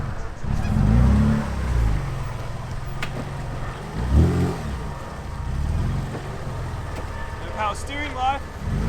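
A Toyota MR2 with a new exhaust revs for a launch, its engine surging loudly in a few bursts while people talk over it.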